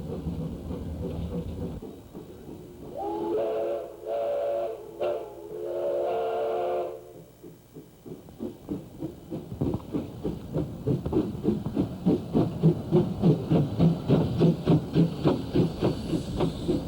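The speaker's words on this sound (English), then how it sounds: "Mighty steam engine number 41 was built in 1881." Narrow-gauge steam locomotive No. 41, built in 1881, lets out a loud, steady hiss of steam, then a rising chuff of exhaust beats that quicken as the passenger train pulls away.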